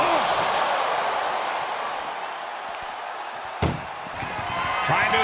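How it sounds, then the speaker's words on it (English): A vehicle door slams shut once with a sharp, loud thud during a wrestling match in an ambulance, standing out midway against a steady roar of crowd noise. "Trying to at least slam one door shut"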